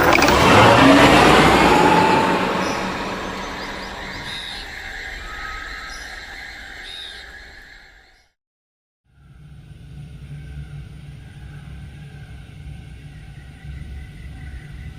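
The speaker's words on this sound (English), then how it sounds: "Inside the trailer, the sound of the car engine faded away" A Ford Explorer pulling away, engine rumble loud at first and fading steadily into the distance, a brief silence, then a low steady hum of the vehicle's interior.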